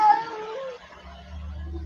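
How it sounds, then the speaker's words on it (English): A house cat meows near a door, a wavering cry at the start that fades into quieter room noise with a low hum. "He's over there meowing by the door."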